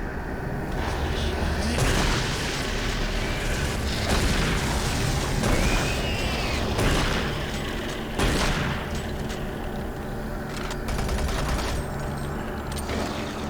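Chain gun fire from Doom 3 aimed at spiders: repeated heavy bursts and booms spaced a second or two apart over a constant mechanical din, loud and close, with faint talk underneath.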